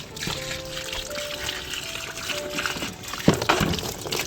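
Rainwater pours and trickles steadily after nearly a week of rain in Oman, a continuous wet splashing flow with a faint sharp knock near the end.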